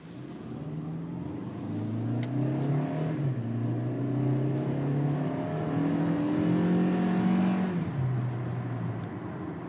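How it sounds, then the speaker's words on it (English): A 2011 Hyundai Elantra's 2-liter four-cylinder drones loudly under acceleration from inside the cabin, its pitch climbing steadily, dropping briefly at a shift, then rising again. "when you push in that engine, it makes quite a bit of racket under there"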